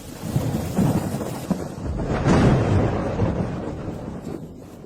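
A thunderstorm with heavy rain in the countryside: steady dense rainfall with deep rolling thunder swelling in the middle, loud and enveloping, no voices.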